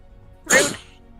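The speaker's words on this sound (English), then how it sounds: "You sneezed." A single sharp sneeze from one person, close and fairly loud, bursting out abruptly and fading quickly, heard alone without talk.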